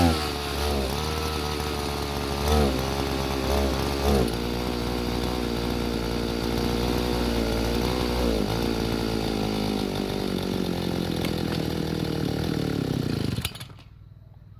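A small engine runs at a fairly steady idle with a rough, buzzing drone and a couple of brief revs early on, then cuts out abruptly just before the end, leaving near silence.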